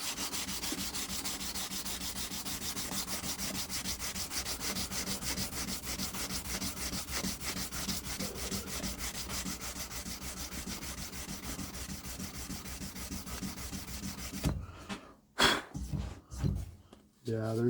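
A belt sander grinds steadily against a drop point hunter knife blade while working out belt marks. The rasping drone runs continuously, then cuts off near the end, leaving a few short knocks and scrapes.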